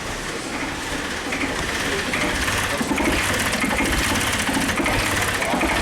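A 2009 Suzuki XL-7 engine with a snapped timing chain runs rough. The idle is loud, uneven and clattering, with a steady mechanical chatter throughout and a faint voice now and then.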